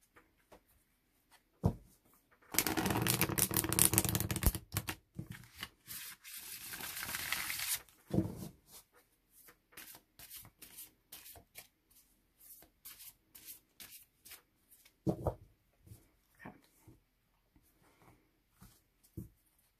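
Quiet riffling bursts of Waite-Smith tarot cards being shuffled, one long rush and a shorter one, followed by scattered soft taps and slides of cards being handled.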